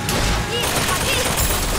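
A turret fires in the video game Bioshock Infinite, a dense burst of rapid gunshots and crackling impacts that runs loud and continuous, with game sound effects layered over it.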